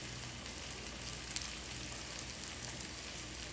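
Onion and broccoli sizzle steadily in a pan, a faint, even hiss of frying with a small pop now and then and no voices.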